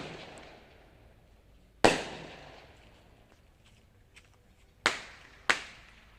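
Fireworks and firecrackers explode at a Yi Peng lantern festival: three sharp, loud bangs spaced out over a few seconds, each trailing off, with faint crowd noise in between.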